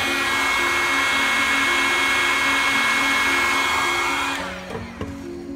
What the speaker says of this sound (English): And then you're going to take a heat gun